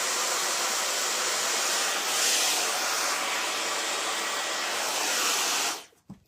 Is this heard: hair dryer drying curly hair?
yes